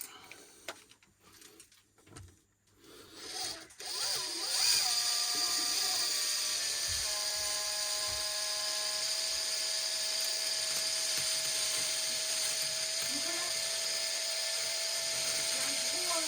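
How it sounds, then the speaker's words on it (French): A power screwdriver drives screws while an electric water heater is being replaced. Softer clicks and handling noises come first, then a sustained high, steady whine from the motor. "On visse."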